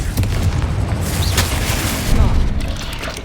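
The Confringo fire spell in Hogwarts Legacy on Xbox sets off a series of rumbling, booming explosions with crackling bursts, while a person talks over them.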